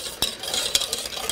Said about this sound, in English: I'm going to take this and give this a really good whisk